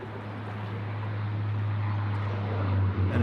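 Airliner engines at Sydney Airport on runways 34 left and 34 right, a continuous broad jet roar with a low steady drone, swelling slightly and holding at a moderate distance, no voices.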